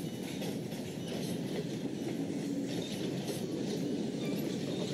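Simulated train rolling along rails in the Trainz 12 railroad game, a steady dense rumble with continuous clickety-clack and faint metallic clinks, even and unbroken for five seconds with no talking.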